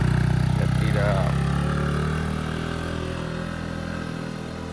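A motorcycle climbs the steep wooden-plank uphill road of Tanjakan Kayu Duo at Muaro Aie, its engine loud and close, revving then settling into a steady drone that slowly fades as it pulls away; voices are heard faintly beneath.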